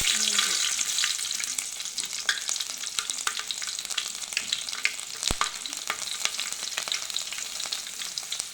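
Green chilli pieces fry in hot oil with a bright, continuous close-up sizzle, broken by occasional sharp crackles and pops as they are stirred.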